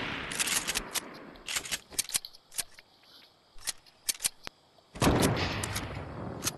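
Enemy gunfire in a video game, sharp cracking shots in bursts and single pops spread across the span, with a louder, denser burst at the end.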